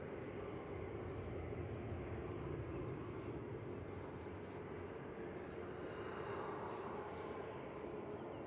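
An Airbus A321neo airliner lines up for departure at Manchester Airport, heard as a faint, steady, distant engine rumble.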